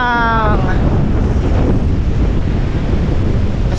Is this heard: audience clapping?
no